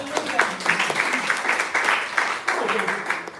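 Audience clapping for a speaker named Michael Andrews, a steady wash of applause from a crowd, fairly loud and sustained throughout.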